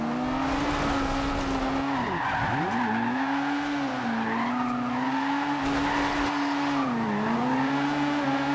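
A drift car driven in the video game Forza Horizon 2 holds a loud, steady engine drone that dips in pitch at a few points, mixed with continuous tire squeal and skidding, with no talking.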